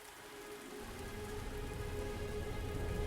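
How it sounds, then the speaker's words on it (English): Steady rain pours in The Spirit and the Mouse video game, a dense even hiss that swells slightly after the first second and continues alone at a moderate level. "Oh, is it raining again?"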